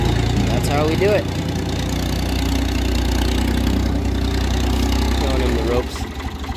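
A steady, low tractor engine idles continuously, rumbling evenly with a slight change in tone near the end.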